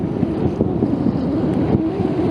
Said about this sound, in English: Casting in the wind sucks.